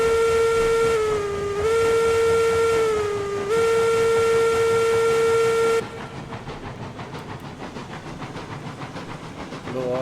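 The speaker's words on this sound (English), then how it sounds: "Go off a little steam just for fun, man." A steam locomotive in RailRoads Online blows a loud, sustained whistle tone that wavers slightly for several seconds, then cuts off into a broad, rushing hiss of released steam that continues steadily to the end.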